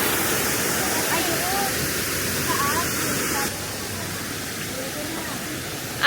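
Taytay Falls pours as a loud, steady rushing roar of falling water, dense and unbroken, dropping slightly in level midway through.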